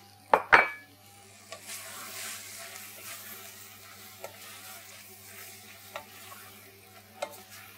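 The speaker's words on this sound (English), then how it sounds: "So we're sweating down the tomatoes and the peppers" Tomatoes and peppers sweat in a pan with a soft, steady sizzle, broken by a couple of sharp utensil clinks near the start and a few faint stirring taps later, no talking.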